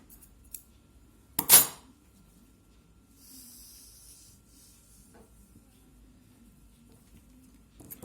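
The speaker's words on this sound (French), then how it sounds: "Je prends les ciseaux, hop, je coupe." Scissors make one sharp, close snip through curling ribbon cut for a homemade face mask, followed by a faint rustle and quiet handling.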